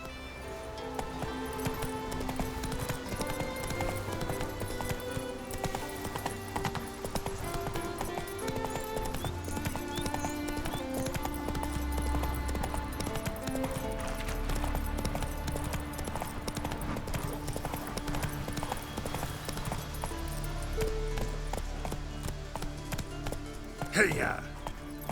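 Hooves of Roach, the horse in The Witcher 3, clip-clopping steadily through open country in a continuous running rhythm, with ambient music underneath and a brief louder burst near the end.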